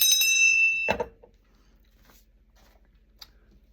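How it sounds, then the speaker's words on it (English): A single bell rings with a bright metallic tone that sustains, then is cut by a clattering knock and fades into near silence, with a faint tap afterward. "I'm going to be bringing a new bell."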